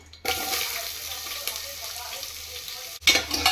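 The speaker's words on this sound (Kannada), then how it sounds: "ಅದನ್ನು ಇವಾಗ ಬಿಸಿ ಆಗಿದೆ ಆಯಿಲು, ಅದನ್ನು ಹಾಕ್ತೀನಿ" Chopped onion drops into hot oil for mutton sambar with a sudden loud sizzle that holds steady for about three seconds, breaks off briefly, then flares up again.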